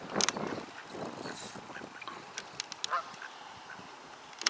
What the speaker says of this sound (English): So the ducks have come